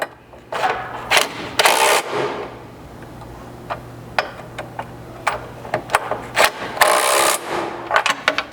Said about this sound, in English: You'll then tighten the bolts for the number 5 bracket through the pinch seam first.